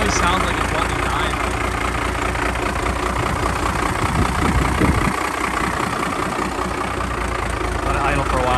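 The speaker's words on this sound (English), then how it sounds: "Let it idle for a while, but it's probably gonna die." A Cummins-powered truck engine idles roughly with an uneven, sputtering rumble that sounds close to stalling, running steadily and loud throughout while a person talks over it.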